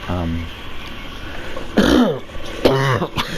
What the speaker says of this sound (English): I got emphysema, so I'm coughing my guts up.